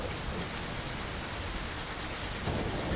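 Rain and rolling thunder in the video game My Summer Car, a steady soft downpour hiss with low thunder rumbling underneath and swelling slightly at the end, no voices.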